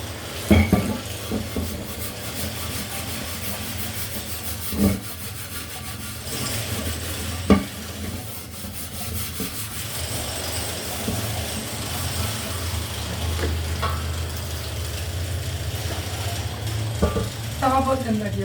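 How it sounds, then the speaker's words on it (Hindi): Dishes being washed in a home kitchen, including a blackened griddle pan, with steady close scrubbing and rubbing, occasional clanks of pots and utensils, and someone talking over it. "तो चलो अब थोड़े से बर्तन धो लेते"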